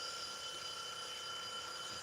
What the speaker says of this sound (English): there she is, my trusty timer